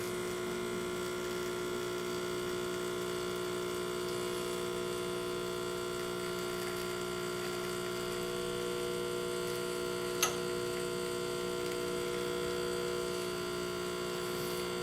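A Bezzera Unica espresso machine's pump hums steadily while pulling a shot, a constant close electric drone with a faint click partway through and no talk.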